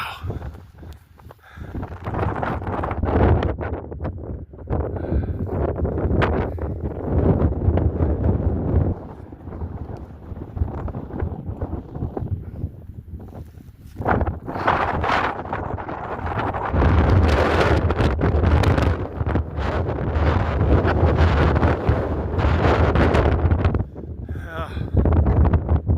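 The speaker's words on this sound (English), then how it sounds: "The wind wants to blow me over." Strong gusty wind on a mountain trail along the Appalachian Trail buffets the microphone in loud, rumbling roars that surge and ease, with a brief lull mid-way and footsteps faintly beneath.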